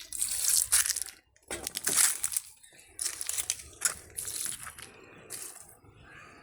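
Fenugreek liquid fertilizer is poured onto garden plants such as beans, chili and spinach in several separate splashing pours, each loud and close, broken by short pauses.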